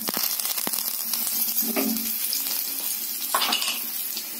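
Curry leaves hit hot oil for a dahi kadhi tempering, giving a steady close-up sizzle and crackle with a few sharp pops and light clinks of a utensil.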